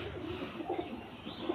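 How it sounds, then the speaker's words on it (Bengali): Pigeons kept at a home loft coo softly in a few low, rolling calls that sound faint and slightly distant. "এই দেখুন পায়রার কোয়ালিটি দেখুন"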